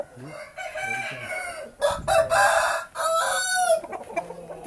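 A fighting cock of good size, about nine to ten pounds, clucks and crows loudly up close, with bursts of calls and faint talk in the background.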